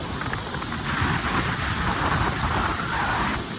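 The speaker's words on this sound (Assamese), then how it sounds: "পুৰা বৰষুণ দি আছে।" Heavy rain pours down around a moving vehicle, a rushing wash of water over a low road and engine rumble, loud and continuous with no voices.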